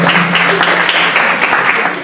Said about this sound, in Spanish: Entonces, un aplauso para Heidi Viviana.